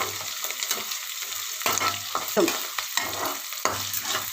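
Chopped onions fry with rock salt in a pan, a continuous close sizzle broken by repeated scraping stirs of a spatula at irregular intervals.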